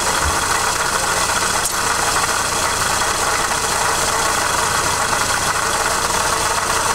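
A Toyota RAV4 engine idles with a persistent fault noise, a loud, steady, broadband mechanical drone that runs unbroken, close to the engine with no talking.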